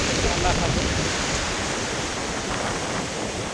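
Broadband surf wash of sea waves on Alibag beach in the Konkan region, a steady continuous roar with no distinct breaks, close and fairly loud throughout.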